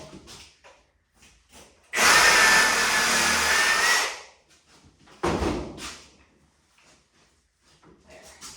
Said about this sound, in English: Take the trusty saw.